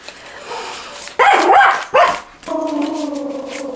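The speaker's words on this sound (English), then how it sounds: "The dogs of the neighborhood are communicating." Neighborhood dogs bark in a few short bursts of yips and barks, then a sustained whining howl; moderately close and loud against a quiet outdoor background.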